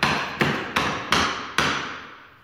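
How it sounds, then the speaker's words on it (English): Five sharp hammer taps on wood, evenly spaced and close, each ringing briefly before the next strike, tapping a cabinet door or drawer flush. "I'll get my hammer. And I will tap that flush."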